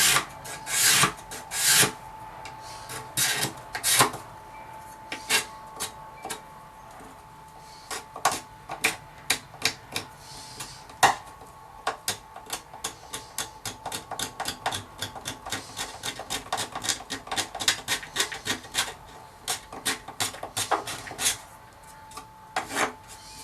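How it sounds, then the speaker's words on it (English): Hand scraper drawn back and forth along a wooden guitar binding trimmed with padauk, giving many short dry rasping strokes, irregular at first and then quicker and steady, close and fairly quiet, with no talking. "Move the scraper to you or away from you,"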